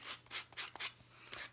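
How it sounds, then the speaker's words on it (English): A small sanding block rubs along cardboard edges in quick, close strokes, each pass a soft raspy swish, about six in a row with short pauses between. "I'm just taking this little sanding block, and I'm just kind of going over the edges a little bit"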